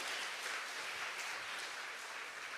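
A church congregation, including a packed upper balcony, claps steadily through a worship service, a dense, even wash of applause from start to finish with no voices standing out.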